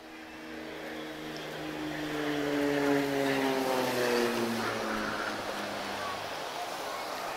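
A propeller aircraft passes low and close over a bay near Lisbon at an air show, its engine drone rising to a steady loud peak before slowly fading, with faint outdoor background.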